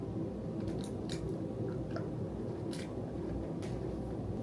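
Crunchy Lindt chocolate studded with biscuit and wafer bits is chewed up close, a dense run of moist crunching and soft crackles with no pauses and no talk.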